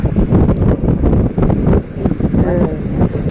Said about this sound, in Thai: ลมก็แรงมันดึงนะ